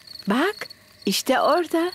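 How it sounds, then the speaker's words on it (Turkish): Steady high-pitched cricket chirping runs throughout, with a person talking briefly over it. "Bu cırcır böceklerinin sesi."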